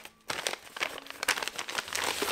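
A paper envelope from a publisher is handled and torn open, giving close, crisp crinkling and rustling bursts that run through the whole moment with no talk.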